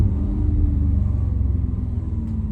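A 2014 Audi RS5 B8.5 coupé with the 4.2 V8 FSI engine and quattro drive gives a deep, steady exhaust rumble, loud and close, holding an even burble with no talk over it.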